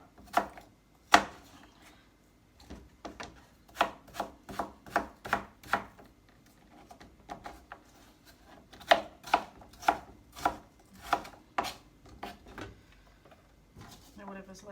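A knife cuts the cores from washed, unpeeled apples on a board, giving sharp, close chopping knocks in uneven bursts and clusters, with quieter scraping between and a person talking at times.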